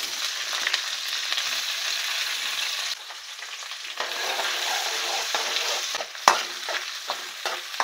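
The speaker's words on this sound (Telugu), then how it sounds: "ముందుగా మనం ఆయిల్ అయితే పోసుకుందామండి. తర్వాత ఉల్లిగడ్డలు మిరపకాయల ముక్కలు కదా ఇవి తీసుకుందాం." Onion and chilli pieces fry in oil for a village-style chicken fry, a loud close sizzling hiss with utensil scrapes and clinks of stirring, easing briefly before surging again.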